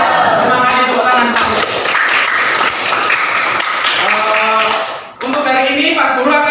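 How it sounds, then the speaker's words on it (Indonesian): Students in a classroom clap together in a brisk, fairly loud round of applause, mixed with voices and chatter, briefly dipping before resuming. "Terima kasih tepuk tangan."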